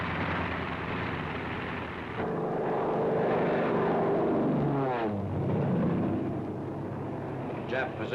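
P-40N fighter planes in a 1944 World War II wartime newsreel drone steadily with propeller engine noise, rising into a louder passing roar midway, heard beneath a narrator's voice.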